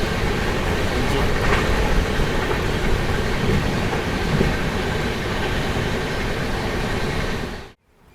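Kacheguda to Madurai superfast express train runs with a steady loud rumble and rattle of wheels on track, heard from inside the coach, then cuts off abruptly at the end.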